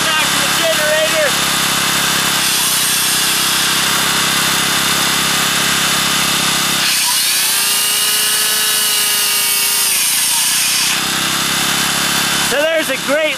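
A wood-smoke-powered generator engine drones steadily, its pitch sagging and then recovering as a power tool whines and loads it down midway.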